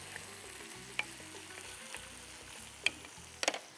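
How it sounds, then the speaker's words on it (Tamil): Okra and chayote sizzle softly in a pan, with a few sharp clinks and scrapes of a spoon stirring them, quiet and close. "வெண்டைக்காய் சவுச்சவை போட்டு நல்லா மிக்ஸ் பண்ணிக்கலாம்."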